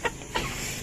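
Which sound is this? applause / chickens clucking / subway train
chickens clucking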